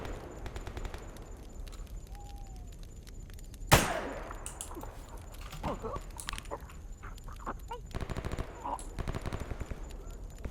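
Gunfire in the shooter Escape From Pripyat as a bandit is killed: a sharp loud shot in a night-time game scene, followed by scattered softer clicks and impacts.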